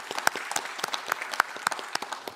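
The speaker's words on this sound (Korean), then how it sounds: "우리 다 같이 박수로 받는 걸로 하겠습니다" Applause from a church general assembly after a report is accepted, steady scattered clapping from many hands at moderate distance, with no talking over it.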